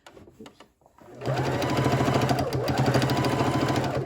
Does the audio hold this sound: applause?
no